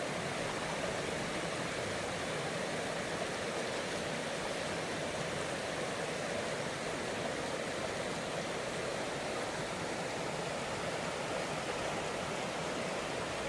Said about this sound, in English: Look at that beautiful water